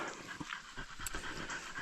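Tired dogs on a steep forest slope pant quickly and steadily at close range, with rapid rhythmic breaths and no talking.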